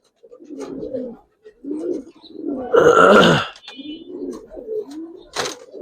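Coloring pigeons kept at home give throaty, bubbling coos in several close bursts, one louder swelling call in the middle and a sharp flutter near the end.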